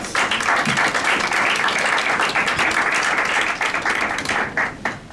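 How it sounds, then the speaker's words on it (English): An audience at a United Nations side event gives a full round of applause, dense and loud clapping that holds steady before tapering off at the end. "Please give her a round of applause."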